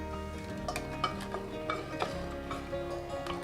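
Steady scraping and soft clinking of a spoon stirring raw rice milk pudding in a pot, with a low simmering hiss underneath and no talking.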